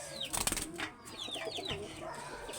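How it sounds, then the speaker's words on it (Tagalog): Pigeons cooing faintly at a distance, low murmuring coos mixed with a few soft wing flaps and short chirps from other birds against a quiet background. "Yan mga kalapatids yun."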